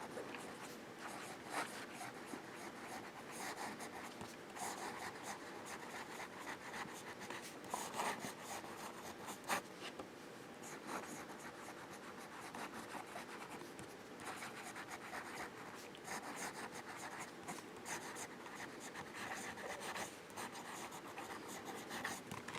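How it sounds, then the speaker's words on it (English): A Sheaffer Student fountain pen with a medium nib writing on paper, continuous close scratchy strokes with short pauses between words, faint and steady throughout with no talking. "Let's do some writing."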